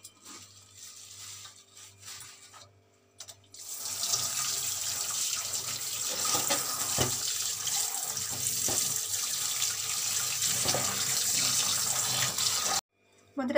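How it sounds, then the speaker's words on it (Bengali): A kitchen tap runs steadily into a sink while whole fish are washed under it, a close continuous splashing gush with small clatters and knocks, starting after a quiet few seconds and cutting off near the end. "তো বন্ধুরা আমি মাছগুলো ধুয়ে নিচ্ছি।"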